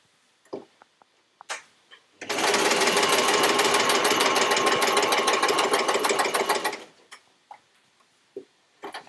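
A sewing machine chain pieces quilt pieces in one close, rapid stitching run of about five seconds. A few light ticks and clicks come before and after it.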